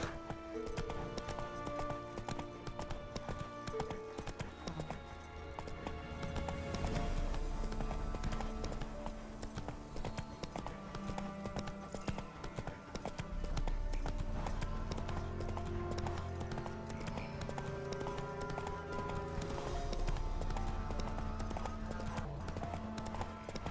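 Roach, the horse in The Witcher 3 video game, gallops along with steady, rhythmic hoofbeats that carry on throughout, over a background of game sound and music.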